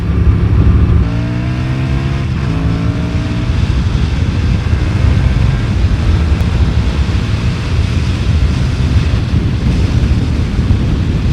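Yamaha MT-07 motorcycle engine accelerating hard: a loud, close roar with rising rev sweeps in the first few seconds, then a steady dense engine rumble filling the rest, with no talking.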